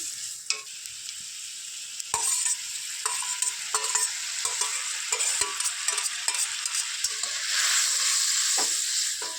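Prawns go into a hot frying pan of milk and a little sugar for chingri malai curry. A steady loud sizzle runs throughout, broken by spoon clinks and stirring scrapes, and it swells near the end.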